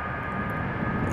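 An MD-82 jet's engines roar steadily with the thrust reversers deployed during a flight simulator landing, a broad even rumble with a faint high tone and no speech.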